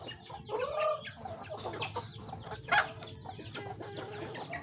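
Farm chickens cluck and murmur nearby in a continuous, overlapping flock chatter during feeding, with one sharper call standing out midway.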